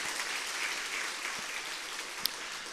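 A church congregation at a Sunday service applauds in encouragement, an even, fairly soft wash of clapping with no voices.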